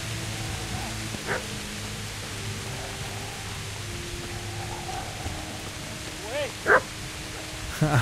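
A dog barks in the video game Kingdom Come: Deliverance, a few short yelping barks spaced apart, faint and distant over a steady hiss of game ambience and low tones.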